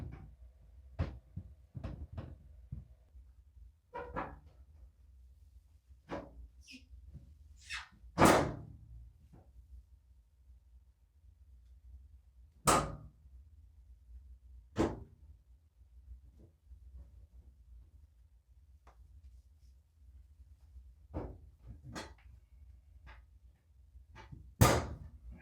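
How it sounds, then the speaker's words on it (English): An Electrolux clothes dryer door is worked back into place: scattered sharp clunks, knocks and a few scraping swishes, spaced out and close, with quiet gaps between and no talking. "Now we're going to put the door back on."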